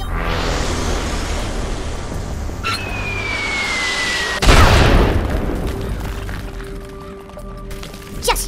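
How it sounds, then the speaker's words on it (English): In the Worms W.M.D. video game, a sudden heavy bomb blast booms out partway through over steady game background noise, preceded by a whistling projectile sweep, then a rumbling decay follows. "Bombs."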